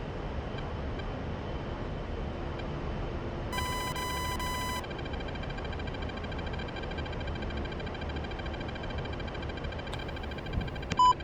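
A cockpit warning buzzer sounds inside an A-10C in the DCS flight simulator, a steady electronic tone holding for about a second over constant engine and cockpit hum, with a few short chirps later.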